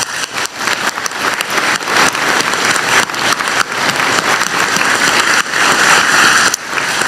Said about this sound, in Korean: 우리 두 분께 박수 한번 드리고 싶습니다